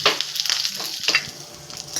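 A hot tempering with curry leaves is poured into peanut chutney, giving close, sharp crackling sizzle bursts that pop irregularly throughout.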